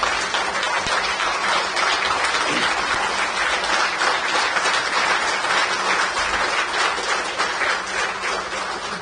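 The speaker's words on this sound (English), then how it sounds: "I request all of you to give a grand clap" Audience at a union conference applauding loudly and steadily for about nine seconds, a dense continuous wash of many hands clapping that fades slightly toward the end.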